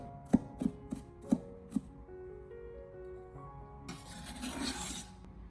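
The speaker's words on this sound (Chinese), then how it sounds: "最后再将大蒜给它改刀切成蒜末" Five or six crisp knife chops on a cutting board as garlic is cut into mince, spaced and fairly close, followed by a short rough scraping sweep across the board.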